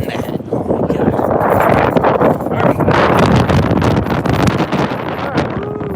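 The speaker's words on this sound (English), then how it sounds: "It's cold. It's windy. It's breezy." Loud, steady wind roars and buffets the microphone throughout, with gusty rumbling that never lets up, in the cold parking lot at MetLife Stadium.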